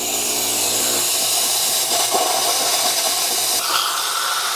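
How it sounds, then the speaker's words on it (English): The super steam wand of a Tuni E2 Gen3 espresso machine gives a steady, loud, broadband hiss that runs the whole time without pause and shifts slightly in tone near the end, with no voices. "So this is ready to use on the super steam."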